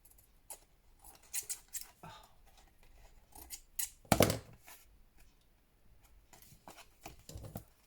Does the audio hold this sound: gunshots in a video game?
no